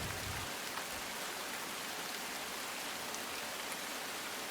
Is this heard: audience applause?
no